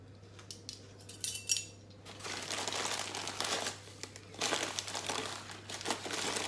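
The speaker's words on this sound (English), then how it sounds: "Sorry about the noise of the paper." Paper crinkles and rustles up close, starting with light scattered crackles and then swelling into a long run of loud, busy crumpling with brief pauses.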